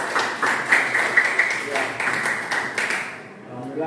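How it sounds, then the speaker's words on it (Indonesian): Classroom students clapping their hands together, a burst of scattered claps rising and falling over a few seconds before fading, with voices mixed in. "Tepuk tangan dulu dah ya."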